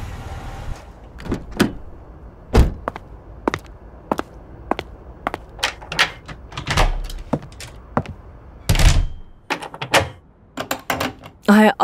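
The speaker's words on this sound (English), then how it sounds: "I always lock the door." A door is shut and locked with a series of sharp clicks, clacks and thuds spread through the clip, some close and loud, ending in a cluster of rattling latch sounds.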